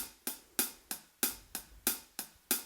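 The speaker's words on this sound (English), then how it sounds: "there's a hi-hat 8-beat" A bright, crisp hi-hat ticks in an even eight-beat pulse from a Boss RC-600 loop station's drum machine click track, dry and fairly quiet with nothing else playing.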